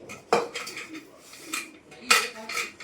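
Steel pots and dishes clatter and scrape as they are scrubbed and washed by hand, with sharp metallic knocks at irregular intervals and softer rubbing between, close up.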